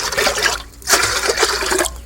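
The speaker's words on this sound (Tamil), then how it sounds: "வாங்க தண்ணி ஊற்றி உருளைக்கிழங்கு அழிக்கிறதுக்கு ஃபஸ்ட்டு தண்ணி ஊற்றிக்கலாம்" Water is poured into a pot to boil potatoes for village-style cooking: a loud, continuous gushing rush that dips briefly partway through, then surges again and flows steadily.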